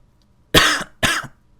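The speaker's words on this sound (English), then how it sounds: "I'm coughing right into the mic" Two sharp coughs in quick succession, loud and close to a microphone, set against near silence.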